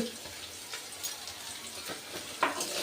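Dried fish frying with onion and garlic in hot oil, with a low continuous sizzle and a few soft stirring scrapes and clinks, one louder scrape near the end.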